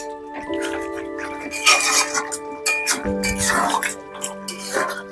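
A spoon clinks and scrapes against a pot while mutton curry sprinkled with garam masala is stirred; the metallic knocks come in irregular bursts, with a steady tonal hum in the background.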